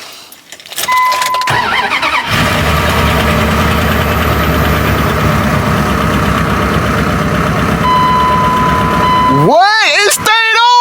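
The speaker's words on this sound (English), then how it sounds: "The truck just stayed on, bro." A Dodge Ram 1500 pickup truck engine cranks and catches, then settles into a loud, steady idle with a slight knock, close to the mic; people shout excitedly near the end.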